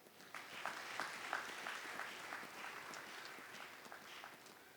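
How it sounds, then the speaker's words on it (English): An audience claps for a long-serving sugar industry pioneer at a ceremony in Uganda, a soft, distant patter of many hands that carries on steadily throughout. "So, clap for him."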